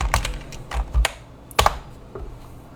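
Computer keyboard keys clacking in irregular bursts as a terminal command is typed, close and crisp, a few quick clusters of keystrokes separated by short pauses, no voices.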